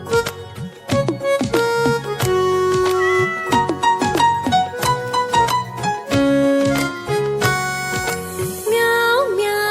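Cat-like meows sound over a bouncy, upbeat Hindi children's cartoon song with steady percussion; the meows recur amid the music instead of standing alone.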